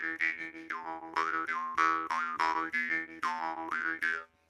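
Jaw harp twanging in a rhythmic run of about a dozen plucks, each with a bright, shifting overtone that wobbles in pitch, played up close and alone before it stops.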